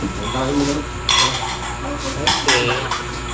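A plate is lifted off a table, making clinks and rattles of dishes and cutlery close by, with a few sharper scraping knocks while people talk in the background.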